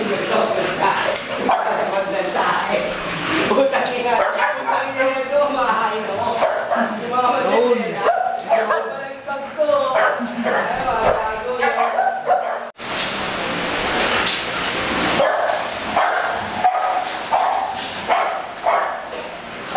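American Bully dogs bark repeatedly at a kennel, loud and close, mixed with people talking and laughing nearby.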